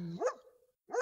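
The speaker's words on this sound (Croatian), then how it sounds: "Znaš tako i pas ne umukne." A dog barks twice, about three quarters of a second apart, each bark short and sharp, heard at moderate distance outdoors.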